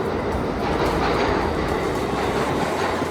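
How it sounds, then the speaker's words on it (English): A New York City subway train rolling along the tracks, a loud continuous rumble with rattling carriages and a faint clickety-clack that stays steady and close throughout, with no voices. "the cheapest and most efficient way to get around New York City was definitely the subway"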